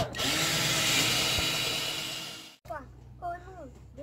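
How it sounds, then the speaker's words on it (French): A power drill bores through sheet metal up close, a loud continuous whirring for about two and a half seconds before stopping abruptly, followed by someone speaking and faint household noise. "Donc là l'idée c'est de venir percer la tôle pour venir insérer une vis et faire tenir le collier."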